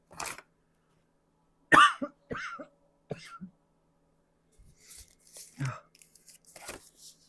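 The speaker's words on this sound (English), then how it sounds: "the coughing just started today" Several harsh, raspy coughs come in separate bursts with quiet gaps between, close by, followed by some breathy throat sounds.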